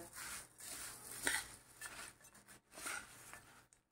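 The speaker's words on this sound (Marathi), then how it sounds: "आणि कोथिंबीर मिक्स करूया।" A spoon scrapes and stirs through Puneri matki bhel as coriander is mixed in, with soft clinks and rasping rubs against the bowl in short, irregular strokes, close and quiet.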